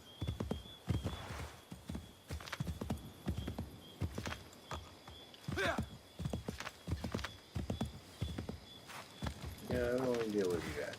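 A horse in Assassin's Creed 3 clip-clops along in a quick rhythmic gait with a neigh near the end, while someone talks over the hoofbeats.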